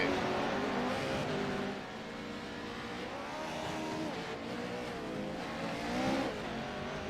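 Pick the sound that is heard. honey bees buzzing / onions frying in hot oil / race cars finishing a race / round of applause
race cars finishing a race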